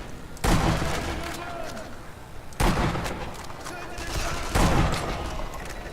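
Gunfire in the Sniper Elite video game, three heavy booming shots spaced a couple of seconds apart, each trailing into a long rumbling echo with continuous battle noise between them.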